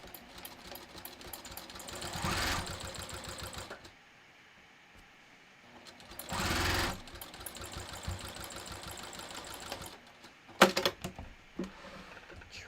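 Sewing machine double-stitching a leather wallet, running in three distinct bursts of rapid mechanical chatter separated by quieter pauses, close and loud, with a final short clatter.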